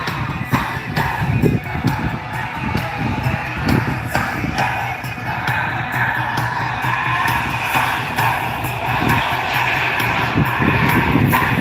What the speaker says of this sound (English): That's just raw power. Twin turbines working hard there.